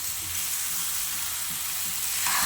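Banana pudding mixture frying in ghee, a continuous bright sizzle with soft stirring scrapes, steady and close, slightly louder at the end.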